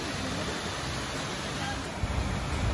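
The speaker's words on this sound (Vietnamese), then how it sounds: "Đây là thác dải yếm." Dai Yem waterfall at Moc Chau, Son La, running low in the dry season, gives a steady broadband rush of falling water that fills the scene, close and continuous, with voices faintly present.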